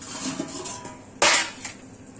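The lid of a cooking pot of shepu (dill) bhaji is lifted, one sharp metallic clank standing out over faint kitchen background noise, close and brief.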